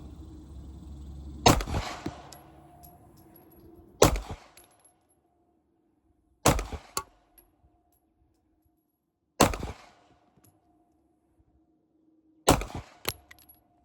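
Five sharp pistol shots from a Canik TP9SF fired at a target ring out at slow, irregular intervals a few seconds apart, each a loud close crack with a brief echoing tail, and near silence between them.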